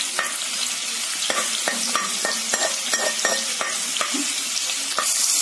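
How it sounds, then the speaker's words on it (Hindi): Green chillies fry in a pan for veg noodles with a loud, continuous sizzle, broken by repeated sharp clicks and scrapes of a spatula stirring against the pan. "मिर्ची को अच्छे से आपको थोड़ा सा भूरा करना है"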